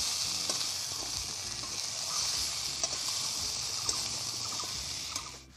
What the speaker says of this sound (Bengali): আবারও আমি ভালো করে সবজিটা নেড়ে নেব।